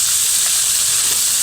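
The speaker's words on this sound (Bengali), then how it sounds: "চিকেনটা দিয়ে দিয়েছি, ওপর থেকে আমি একটুখানি টমেটো সস দিয়ে দিচ্ছি।" Chicken sizzles loudly and steadily in a hot pan with tomato sauce for chowmein, a close, continuous frying hiss with no pauses and no voices.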